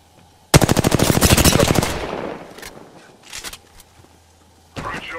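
Loud rapid automatic gunfire in Apex Legends, a fast burst of evenly spaced shots lasting over a second that tails off, then scattered shorter shots and another brief burst close by.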